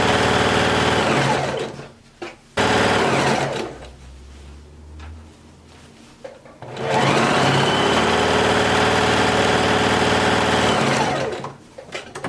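Sewing machine running steadily while stitching a satin hair bonnet, two long continuous stretches of close, even motor whir broken by a brief pause with soft handling sounds.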